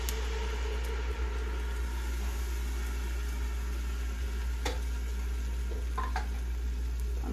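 Tomato puree frying in a pot that held roasted or fried chiles, a steady close sizzle with soft bubbling that runs unbroken under a low hum, plus a few light clinks from stirring.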